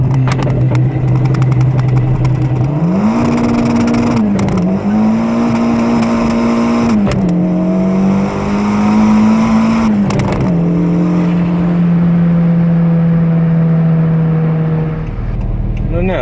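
Toyota Starlet fitted with a bigger turbo pulls hard through the gears, its loud engine note climbing steadily with brief drops at each shift, close and continuous for the whole stretch.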